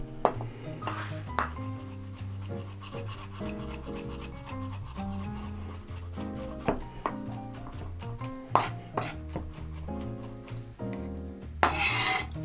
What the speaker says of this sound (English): We're gonna mince an onion. We're gonna chop some garlic.